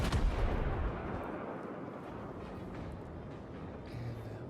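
Warship artillery salvo in World of Warships, fired from the German battleship Kaiser at a Wyoming-class target: a loud, booming blast opens, then a long rumbling decay that fades into distant low roar.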